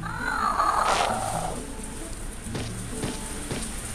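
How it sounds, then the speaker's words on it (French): Heavy rain pours steadily outside, a broad continuous hiss that stays fairly loud throughout, with a brief brighter splash or sweep near the start. "qu'est-ce qu'il pleut ici, c'est ouf"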